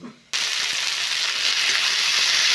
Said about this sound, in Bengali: আদা টমেটোটা ভাজা ভাজা হয়ে গেছে